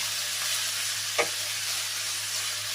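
Frozen ground beef browning in a pan, a steady close sizzle and frying hiss with a brief stir scrape near the middle and a low hum underneath.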